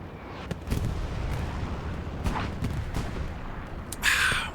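Rockets launched into a trench in the World War II video game Hell Let Loose on the Utah Beach map, a series of distant booms and thuds over rumbling battlefield ambience, ending in a louder, brighter blast.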